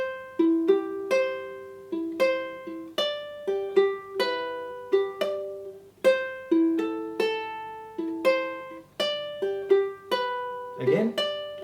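Acoustic guitar riff from a song played slowly with thumb picking, distinct plucked notes ringing one after another in a relaxed, even rhythm, close and clear with no voice.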